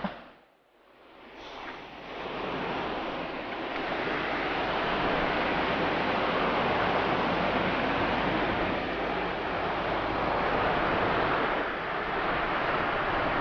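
Forest stream in the Mudumalai tiger reserve near Masinagudi flows with a steady, close rushing wash of water after a brief dip at the start, with no voices.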